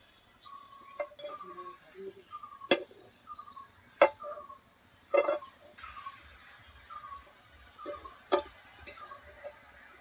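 A spatula stirs pumpkin greens with salt in a hot, oil-free wok, giving sparse, crisp metallic clinks and taps at irregular intervals with quiet gaps between them.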